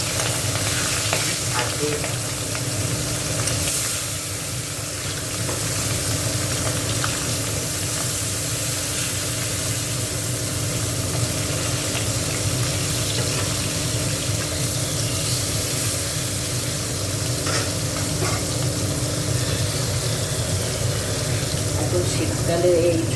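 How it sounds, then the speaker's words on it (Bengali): Small tangra fish frying in a pan make a long, steady close sizzle with occasional stirring and spatter, and a brief spoken word comes in over it. "তো মাছগুলো ভাজা হোক"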